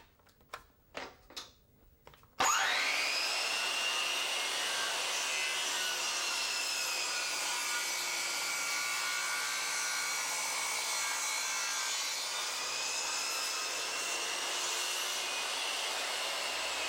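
A Triton saw mounted in a Triton Workcentre makes a bevel cut in wood, starting after a few light knocks with a sudden loud, steady whining rip that runs on unbroken, close and dominant.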